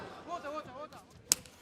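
A slapping kick lands in a UFC 264 bout: one sharp, loud crack cuts through near the end, after a stretch of commentary voice with crowd murmur underneath.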